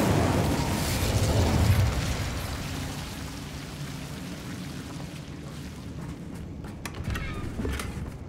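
A fire spell cast in the Hogwarts Legacy video game: a loud rushing burst of flame that fades into a sustained crackling roar, with small pops near the end.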